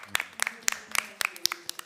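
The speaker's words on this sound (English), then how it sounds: "Can we give them a round of applause again?" Sparse audience applause at a COP28 session, a handful of distinct claps in quick irregular succession, fairly faint.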